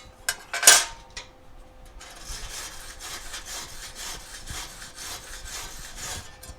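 A hand saw cuts open a MIG weld on metal made with a Lincoln Electric Handy Mig 88 amp welder. A few sharp clanks come first, then rhythmic rasping strokes follow close and steady.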